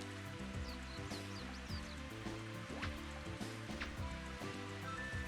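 Steady rain noise in a golf video game, a continuous hiss with a busy, layered music-like backdrop at constant loudness throughout.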